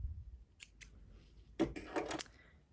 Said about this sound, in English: And you're just going to snip them all.